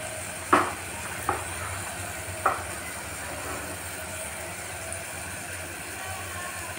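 Turmeric, chili powder and coriander fry in oil in a pan for radish curry, a low continuous sizzle with three soft spoon scrapes early on, then quieter frying.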